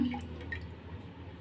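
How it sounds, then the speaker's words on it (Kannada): Milk is poured into two bowls while making mango-flavored yogurt, giving a brief, soft liquid trickle and drip up close, with no talk. "ಹಾಲನ್ನು ಎರಡು ಬಟ್ಲಿಗೂ ಹಾಕ್ಕೊಳ್ಳೋಣ"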